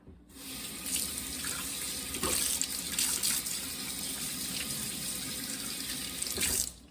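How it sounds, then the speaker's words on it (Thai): Tap water runs steadily into a sink while hands are washed under it during home cooking of Thai grilled pork, a continuous close gush with brief splashy surges and no talking. "ล้างมือแป๊บนะ"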